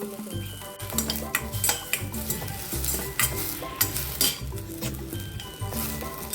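Hurda, tender jowar grains, being roasted in a pan with steady stirring, a scraping spoon and light metallic clinks over a soft sizzle, close and continuous with no talking.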